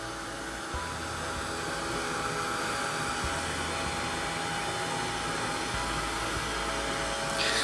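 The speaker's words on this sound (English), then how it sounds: "here I'm going to use my heat gun to" Heat gun blowing steadily to dry paint on an altered shoe, a continuous loud whooshing roar of air with a faint motor whine, unbroken from start to finish.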